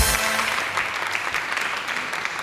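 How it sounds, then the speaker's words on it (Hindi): Steady applause from a talk show studio audience, dense and continuous clapping filling the space without pause. "अभी तालियां रुकेंगी नहीं।"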